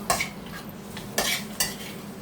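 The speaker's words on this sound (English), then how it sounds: "all I'm going to do is brown the pork" Pork browns in a pan for a stir fry while a utensil scrapes through it in three quick stirring strokes over a soft, steady sizzle.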